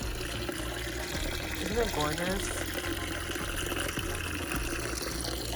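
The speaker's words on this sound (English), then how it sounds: "There's a little waterfall." A small garden waterfall at a vacation rental in San Juan, Puerto Rico, trickles and splashes steadily beneath a voice speaking close by.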